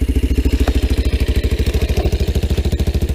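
A Yamaha 200 Tri-Moto race trike engine idles close by with a steady, rapid, lumpy pulse that stays even throughout.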